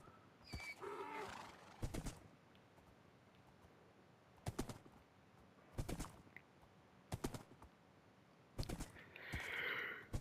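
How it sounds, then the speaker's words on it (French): Minecraft horses sound off in a farm setting, with a few short separate bursts such as whinnies and snorts spread over a quiet background and a longer breathy call near the end. "les chevaux de l'Apocalypse, je vais les laisser"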